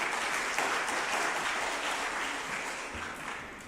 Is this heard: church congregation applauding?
yes